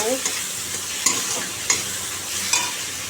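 Curry of onion, green chili, tomato and cumin powder simmers and sizzles steadily in a pan, with a few sharp clinks of a utensil scraping or stirring at intervals.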